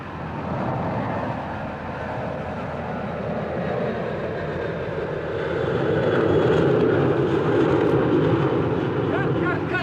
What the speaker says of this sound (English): I think planes from Newark Airport flew over. Like this one.